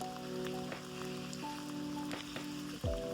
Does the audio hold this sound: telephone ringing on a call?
no